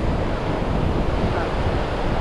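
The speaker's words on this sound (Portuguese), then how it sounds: "Uma praia, registrando, uma vista linda, olha que ondas." Ocean waves breaking on a beach in Touros, Rio Grande do Norte, make a loud, continuous wash of surf mixed with heavy wind buffeting the microphone, with no distinct individual breakers.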